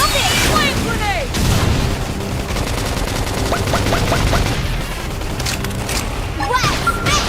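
Rapid gunfire in a video game: dense, continuous bursts of shots and booms fill the scene at high volume, layered with game effects and announcer-style callouts.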